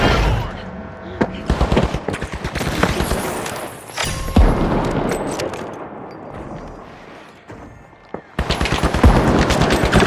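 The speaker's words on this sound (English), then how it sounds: "Coup grenade! Coup grenade out!" Grenade blasts and bursts of rapid gunfire in a match of The Finals video game, a chaotic run of sharp cracks and booms with a quieter lull before the firing picks up again, under excited talk.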